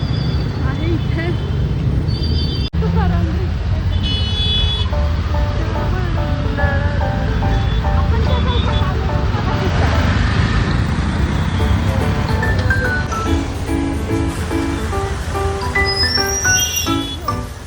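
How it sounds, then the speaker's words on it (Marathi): Heavy evening road traffic with a steady loud roar of engines, horns sounding repeatedly throughout, and voices talking over the din nearby. "आता प्रचंड असं ट्रॅफिक आहे"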